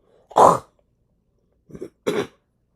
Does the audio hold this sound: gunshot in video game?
no